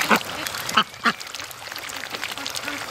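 Adult ducks in a happy backyard flock with hatchlings quack in a few short, loud bursts near the start, followed by fainter, scattered calls.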